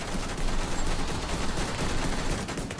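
Long-range pistol shots in The Division 2, part of a shield build, crackle through a dense, continuous wash of battle noise, individual shots blurred together with heavy gunfire filling the whole stretch.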